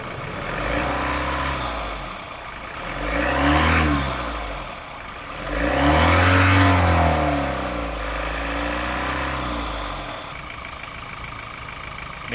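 A car engine with blow-by from the wrong oil is revved to about 2000 RPM, swelling up and dropping back in two clear rises over a steady idle, heard up close with no talking.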